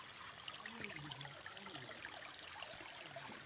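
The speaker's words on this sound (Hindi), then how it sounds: "ये ऐसे पानी आ रहा है देखो ये सब जितना पानी बह रहा है" Water flowing steadily in a village stream of drinking water, a continuous soft rushing and trickling at low level, fairly close, with no voices.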